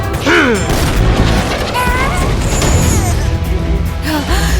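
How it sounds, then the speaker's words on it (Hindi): A cartoon micro missile attack in a kids' car battle cartoon: loud, continuous booming explosions with whistling, sweeping tones layered over a dense rumble, filling the whole moment. "माइक्रो मिसाइल आक्रमण"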